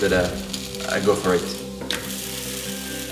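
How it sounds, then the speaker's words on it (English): Dosa frying in olive oil in a pan, turned to crisp the other side: a steady close sizzle runs throughout beneath a woman's brief speech. "Sienna likes her dosa crispy, so I'll cook it a bit on the other side."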